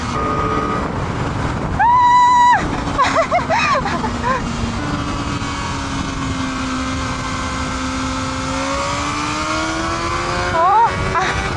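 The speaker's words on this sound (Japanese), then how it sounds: "やっぱ1万回転ぐらいからすごい伸び" A Kawasaki ZX-4RR sport motorcycle on a race circuit screams at high revs and climbs steadily through the gears, loud and continuous, with a rider's voice talking over it.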